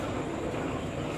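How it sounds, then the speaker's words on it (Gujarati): A train pulls into a railway station platform in Vadodara, a steady loud rumble of rolling wheels and carriages filling the whole short stretch without a break. "ટ્રેન આવે છે"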